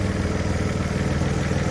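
A Vauxhall Calibra engine sits at a steady idle, giving a low even rumble that holds constant and close by, with no voices.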